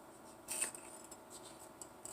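Scissors snipping open a food package in a kitchen, a few quick, quiet crisp cuts with soft rustling between them.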